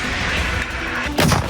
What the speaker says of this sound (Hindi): राष्ट्रपति पुतिन ने यूक्रेन पर बारूदी आग बरसानी शुरू कर दी है।